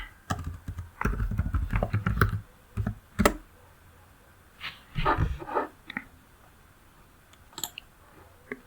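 Typing on a computer keyboard while entering a product name into a search field, heard as clusters of close clicks and taps in short irregular bursts separated by quiet gaps.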